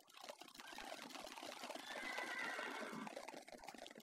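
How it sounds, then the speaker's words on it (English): A horse eats in the video game Minecraft, a close munching and crunching chew that swells and fades over a few seconds, with no talking. "So that's definitely the sound of him eating it."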